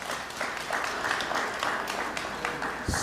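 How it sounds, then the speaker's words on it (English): Sustained audience applause at a City of Little Rock press conference, many hands clapping steadily and fairly close for about three seconds, with no talk over it. "Let's give her a round of applause."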